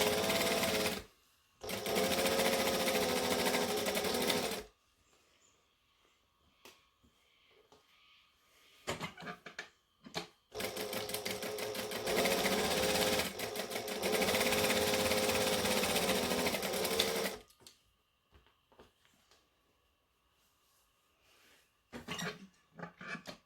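A sewing machine stitches the seams of a pair of shorts, back stitching at the start and end, running in two long loud bursts of steady motor hum separated by quiet handling pauses, with brief clicks and short runs later.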